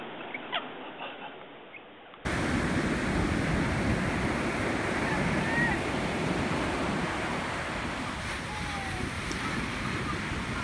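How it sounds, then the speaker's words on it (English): Heavy surf breaks onto a beach closed to swimmers because of the big waves, a steady broad roar with wind buffeting the microphone and no voices. "Some magnificent waves today."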